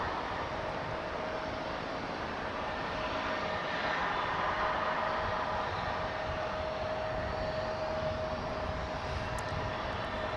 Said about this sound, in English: Envoy 4190, 18 left, clear for takeoff